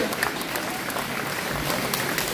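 Audience at a French cosplay competition applauding performers on stage, a steady broadband clatter of many hands clapping throughout, moderately loud and continuous.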